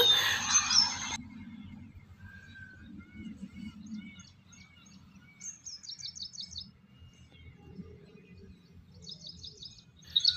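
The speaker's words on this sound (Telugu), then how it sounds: "నెమళ్ళు, పక్షులు అరుస్తుంటే చాలా చాలా బాగుందనమాట." Peacocks and other birds chirping and calling outdoors on a farm in the rainy season, with short repeated tweet phrases at a distance over a low background rumble; a louder rushing noise opens the clip.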